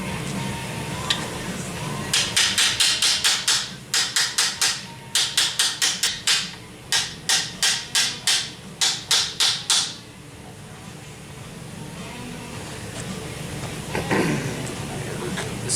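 A hammer taps on old Volkswagen Deluxe aluminum trim to straighten it, delivering about twenty quick, evenly spaced metallic strikes in bursts, close and crisp, then a quieter stretch of room noise.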